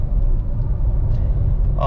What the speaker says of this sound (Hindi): बस आजकल रोड्स पे ट्रैफिक काफ़ी हो रहा है